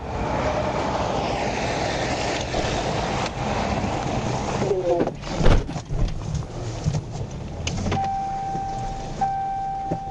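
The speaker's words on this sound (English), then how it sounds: "He's driving down the ditch." A Nissan Altima driven down into a roadside ditch after a police PIT manoeuvre in Arkansas, heard as loud continuous engine and road rumble with a sharp jolt partway through and faint voices underneath.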